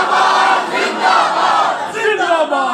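A large religious gathering chanting Tajdar-e-Khatm-e-Nabuwwat with hands raised at full strength; a loud, dense massed shout of many voices, sustained and roughly rising in waves, filling the whole moment.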